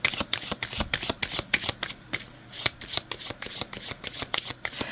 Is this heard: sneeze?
no